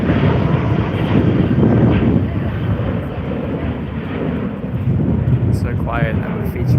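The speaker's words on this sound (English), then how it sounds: "There goes his 737-800." A Boeing 737-800 airliner passes with a loud, broad engine roar and wind rush that holds steady over several seconds, with brief talk near the end.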